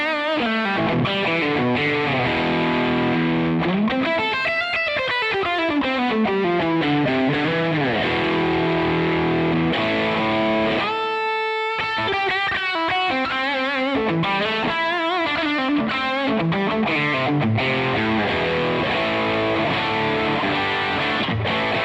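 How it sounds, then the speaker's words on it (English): A PRS Swamp Ash Special electric guitar plays with a heavily distorted, high-gain tone, sustained chords and sliding bends ringing continuously, with a brief break near the middle before the playing resumes. "let's try some distorted tones."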